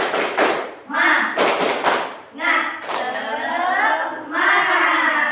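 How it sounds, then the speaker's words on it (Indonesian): A group of teachers performs a rhythmic spirit clap, with bursts of sharp, loud hand claps in patterned sets alternating with chanted group voices, close and energetic. "Ya, tepuk semangat."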